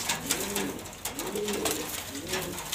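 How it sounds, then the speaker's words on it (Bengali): Pigeons coo nearby in three rising-falling calls, each soft and rounded, with faint background noise between them. "এই যে দুইটা কবুতর আছে, যার লাগবে আসবেন, আইসা নিয়ে যাবেন ইনশাআল্লাহ"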